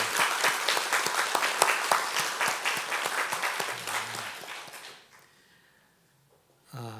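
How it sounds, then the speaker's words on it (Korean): A church congregation at a year-end Sunday service claps loudly in thanks, dense sustained applause for about five seconds that fades out, followed by a short pause and a voice starting to speak. "우리 감사의 박수를 한번 크게 좀 쳐주시기 바랍니다."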